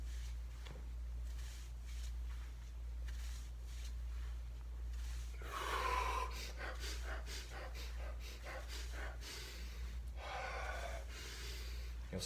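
Forceful burst breaths during a squat breathing exercise, a few sharp exhalations and gasps clustered in the second half, close and moderately loud over a steady low hum, with no talking.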